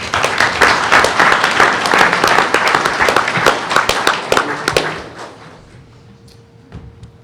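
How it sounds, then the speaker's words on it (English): Loud applause for a student team at a school board meeting, dense clapping for about five seconds before fading out into quiet room tone. "Let's give them a round of applause."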